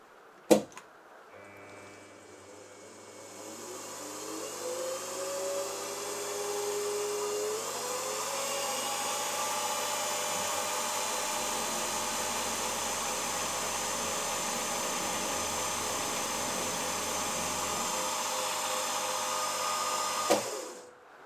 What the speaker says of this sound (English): So once I've drilled and reamed that, I'll then move it to the other position on the other side.